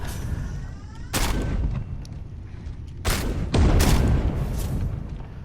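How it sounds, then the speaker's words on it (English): An active turret in the video game Space Hulk: Deathwing fires loud bursts of gunfire in a few separate volleys over a rumbling background. "And as you can see, there is an active turret there"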